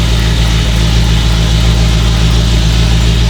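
A BMW E34 engine idles steadily with no intake leaks, a constant low, even hum with faint vibration, close and loud throughout, with no talking over it.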